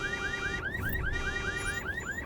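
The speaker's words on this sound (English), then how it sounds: "Now, we've already set off the car alarm" A video game car alarm wails nonstop, a loud electronic siren sweeping upward in rapid repeated chirps with a steady pulsing rhythm, close and alone.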